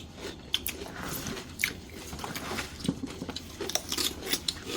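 Crunchy eolgari kimchi, made from young napa cabbage, bitten and chewed up close: repeated crisp crunches and wet chewing at an irregular pace, fairly quiet.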